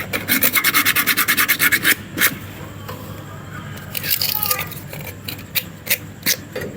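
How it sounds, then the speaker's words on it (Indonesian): Sandpaper rubbed quickly back and forth on a copper pipe during a chest freezer repair, a fast series of close rasping strokes, then a pause, then more irregular scrapes, with someone talking in between. "Nah, jadi ini kita amplas dulu ini."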